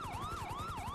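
A GTA 5 police car siren wails in a steady, rising-and-falling electronic tone that cycles about three times per second over low engine rumble, with no talking.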